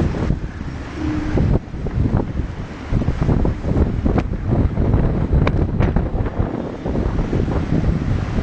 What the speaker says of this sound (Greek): Οχτώ με 9 μποφόρ είναι ο αέρας έξω.